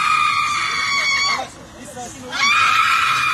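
A Turkish woman screams in a shrill, goat-like bleat: two long, loud, wavering wails close by, separated by a short break.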